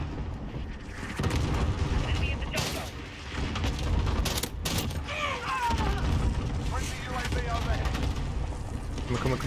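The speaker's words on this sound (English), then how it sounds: "Allied cluster strike inbound." Cluster strike explosions and gunfire in Modern Warfare multiplayer, a string of heavy booms and crackling blasts rolling through loud battle noise, with bursts of shooting and voices talking over the chaos.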